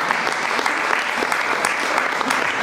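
A church congregation applauds to acclaim Jesus, steady dense clapping filling the whole stretch at close range, with no talk over it.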